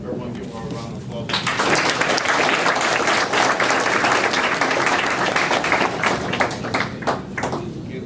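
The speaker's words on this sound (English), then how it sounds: "Everyone give her a round of applause." An audience applauds after a spoken word poetry performance: dense, loud clapping that erupts after a second of quieter sound and carries on steadily to the end, with voices mixed in beneath it.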